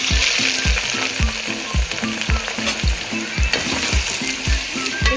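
One kilogram of peeled, cut onions sizzles loudly in hot oil while being stirred in a steady rhythm of scraping strokes.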